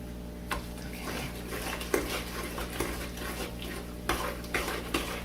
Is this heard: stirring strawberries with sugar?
yes